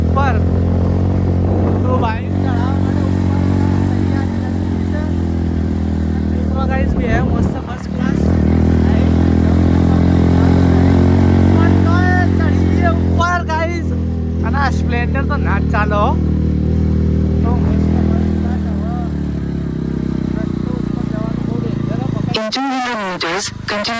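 Motorbike climbing a steep, dangerous hill road during a one-day camping trip to Mini Pavagadh, its engine droning steadily and loudly throughout, with voices talking over it before the sound cuts off near the end.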